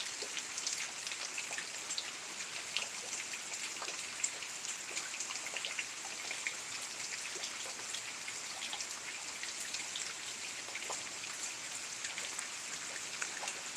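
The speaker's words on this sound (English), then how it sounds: "it's just gonna be rain for the rest of the night" Steady rain falls after a thunderstorm in southeast Kansas, a dense, even patter of drops on surfaces with a constant hiss and no pauses, heard alone without voices.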